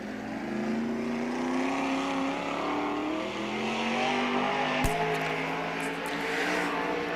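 Sprint car engines roar steadily around the Knoxville Raceway dirt track during qualifying, a continuous loud drone with rising and falling pitch as a car laps, with one sharp transient near the end.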